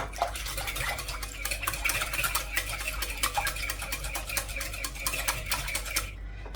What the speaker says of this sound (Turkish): Hepsini iyice çırpalım. Yumurtamız güzelce çözülsün.